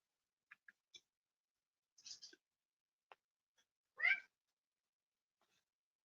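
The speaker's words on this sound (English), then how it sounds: "I have my cat here that got pretty talkative now." A cat meows in a quiet room: a few faint short chirps and mews, then one louder, drawn-out meow, each separated by silence.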